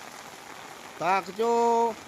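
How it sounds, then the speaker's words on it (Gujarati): Heavy rain pours in a village as a steady broadband hiss, with a voice speaking briefly over it. "જોરદાર વરસાદ પડે છે."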